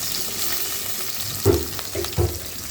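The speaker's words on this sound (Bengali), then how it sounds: "এখন এখানে পেঁয়াজ কুচি দিয়ে দিচ্ছি" Chopped onion dropped into a pot of hot oil, with a broad hissing fry and a couple of louder stirring clatters near the end.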